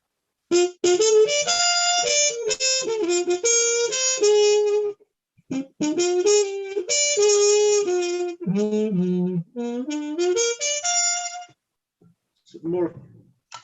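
A trumpet with a cup mute and cork insert plays a bright, buzzy, slightly nasal phrase up close, with several sustained notes and short breaks, ending in a brief low blip.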